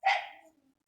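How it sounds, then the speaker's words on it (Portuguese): A dog gives a single sharp bark, fairly close and clear, which fades quickly into silence. "O cachorro está perturbando aí."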